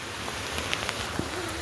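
Heavy morning rain falls on a village, a dense, even hiss of downpour close by with a few faint taps and splashes scattered through it.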